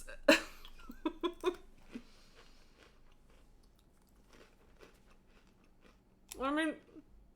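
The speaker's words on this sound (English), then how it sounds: "I don't know how much crunching you guys can hear" Crunchy lunch food bitten and chewed close to the microphone: a sharp crunch, then a quick run of crisp bites, quieter chewing, and another loud crunch near the end, with no talk.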